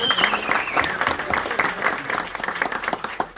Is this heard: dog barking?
no